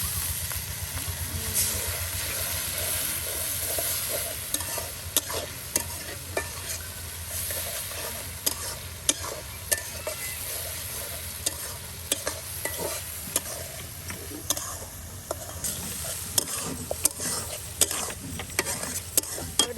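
Spices sizzle steadily in a hot pan while a utensil scrapes and stirs with frequent sharp clicks against the metal, cooked outdoors by a riverbank.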